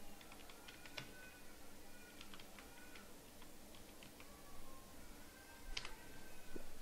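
Keys tapped on a computer keyboard in irregular bursts of light clicks, fairly quiet and close, with a soft steady background hiss and no voices.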